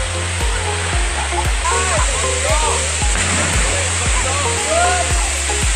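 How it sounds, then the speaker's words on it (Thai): Na Muang waterfall on Koh Samui rushes in a loud, steady roar throughout, while a low rhythmic thumping and high chirping calls sound over the water. "เราก็ได้มาถึงแล้วนะครับ น้ำตกหน้าเมืองอยู่ที่บนเกาะสมุยนะครับ"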